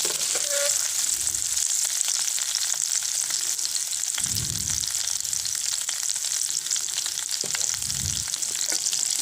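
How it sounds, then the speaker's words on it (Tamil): Onions for sambar sauté in oil in a pan, a constant bright sizzle and crackle with occasional scraping stirs of a spoon against the pan. "இப்போ வெங்காயம் நல்லா வதங்கி வர அளவுக்கு கலந்து விட்டுக்கலாம்."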